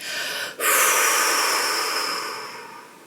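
Long breath released during a relaxation exercise: a brief inhale, then a loud, close, airy exhale that slowly fades over about two and a half seconds.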